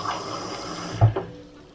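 Tap water runs into a cup in a home kitchen, a soft faint trickle with a brief splash as the flow ends.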